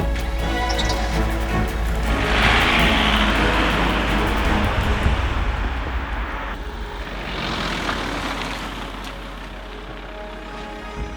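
An engine drones outside at night, a steady loud rumble that swells and fades over several seconds with a rushing broadband roar, then settles lower, heard alone without voices.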